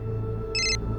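A telephone rings once in a short electronic burst over a steady low background hum, in a Hindi crime drama scene.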